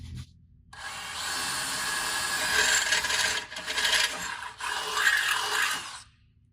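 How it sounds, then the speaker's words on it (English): A power drill grinds steadily through material for about five seconds, drilling a quarter-inch hole through a 2022+ Toyota Tundra front bumper mount, with brief dips in pitch and load midway, close up and loud. "Now we're going to go ahead and drill 1/4-inch hole through this opening right here."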